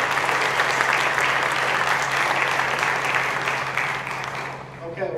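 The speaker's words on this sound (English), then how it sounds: "let's have another round of applause for that performance, please." Sustained audience applause after a wind ensemble concert performance, a dense wash of many hands clapping that stays full and steady, then gradually thins and fades toward the end.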